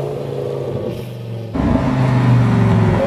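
A powerful supercar engine hums, then abruptly jumps to a louder, higher growl as it downshifts arriving at a car dealership, revving hard up close.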